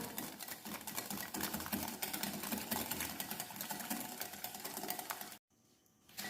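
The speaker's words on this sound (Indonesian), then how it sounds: "Kita kocok sampai tercampur merata ya. Sampai gulanya larut." Sponge cake batter for a steamed orange cake is beaten with sugar until the sugar dissolves, making a loud, steady whirring buzz that runs continuously before cutting out abruptly near the end.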